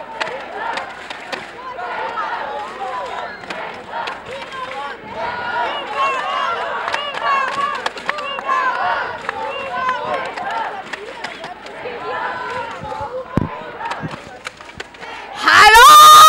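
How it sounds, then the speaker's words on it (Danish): Live crowd at a Danish relay contest roaring, cheering and yelling nonstop for the full stretch, loud and dense, with a sharp burst of shrieks right at the end. "Lad mig høre noget larm."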